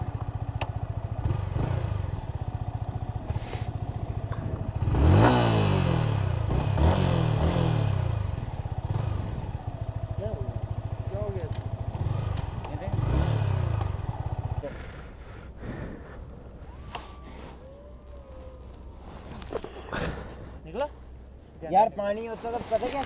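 A motorcycle with a seized engine is cranked on its electric self-starter and briefly catches and revs, a loud mechanical churn near the mic, followed by quieter clattering and short bursts, with people talking throughout.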